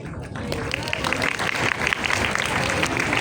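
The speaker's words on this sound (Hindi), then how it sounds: "ये सिर्फ 530 तालियां बजा रहे हैं" Online class audience clapping, a thick, continuous patter of many hands that grows a little louder toward the end, with a voice talking over it.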